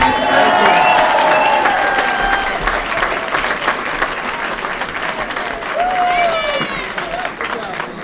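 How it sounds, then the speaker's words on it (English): Audience applause with some cheering from a crowd at a community event, loud and sustained clapping that eases slightly midway, with voices and whoops mixed in. "Let's give him a round of applause."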